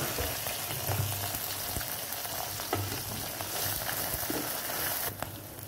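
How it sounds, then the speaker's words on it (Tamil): Onion, garlic, curry leaves and dried red chillies frying in a pan for hotel-style tomato chutney, a steady dense crackling sizzle like rain, close, with occasional spoon taps, easing off near the end, no talking. "இந்த காஞ்ச மிளகா எல்லாத்தையும் போட்டு நல்லா தான் நம்ம வறுத்துக்கிறோம்."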